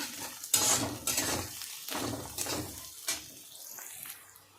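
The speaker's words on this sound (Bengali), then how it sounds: "একটু গাজরটাকে ভেজে নেওয়া হয়ে গেছে" Chopped carrots being stir-fried in a pan, with repeated scraping and knocking of a spatula against the metal over a soft sizzle, close and rhythmic with irregular strokes.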